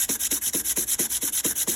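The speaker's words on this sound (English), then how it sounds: "I am flat sanding them so that I can put the two halves together and they'll fit rather well" Model kit halves being flat sanded, a rhythmic back-and-forth rasping with about seven even strokes in quick succession, close and fairly loud with no talking.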